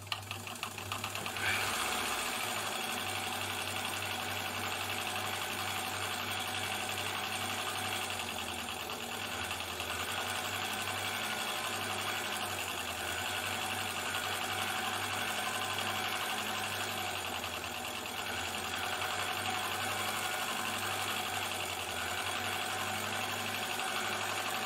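An Elna Supermatic sewing machine runs steadily while stitching embroidery, a continuous close mechanical whir with a fast needle rhythm and a low motor hum, holding an even level from start to end with no talk.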